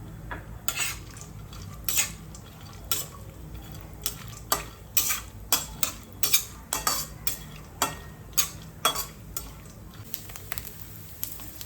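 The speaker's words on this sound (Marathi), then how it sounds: "अशा प्रकारे हे ड्रायफ्रुट्स तुपात तळून घ्यायचे" Dry fruits fry in ghee in a kadhai, with a low sizzle under repeated sharp clinks and scrapes of a spatula stirring against the metal pan at an irregular rhythm.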